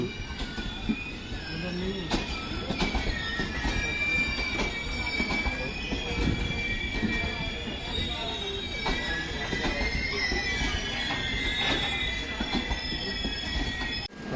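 A Secunderabad-to-Gujarat train on a Raichur–Secunderabad line rolls along the rails nearby, wheels squealing and rattling with rhythmic clacks, a continuous loud rumble throughout.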